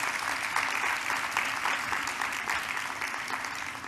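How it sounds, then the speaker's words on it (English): Sustained applause from a conference audience at an advertising festival talk in Asia, a steady dense wash of clapping at moderate level throughout. "Give them a round of applause."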